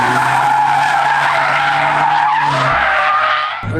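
A 2022 Mazda MX-5 Roadster driven on the street, heard as a loud, steady engine and rushing road noise that holds level before dropping off near the end.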